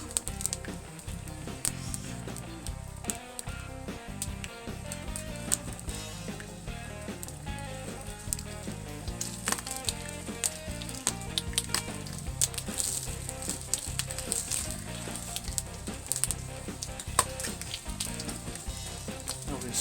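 Bacon sizzles on a very hot grill while smash burgers are cooked, giving a steady, dense crackle and spit that runs without a break, fairly close and alone with no voices.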